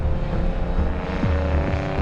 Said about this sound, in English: just letting the Subaru engine sing.